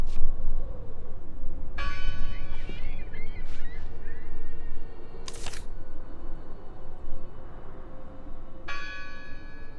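A church bell rings inside the Draugen video game, with two resonant strikes several seconds apart that hum out over a steady, murky ambient background.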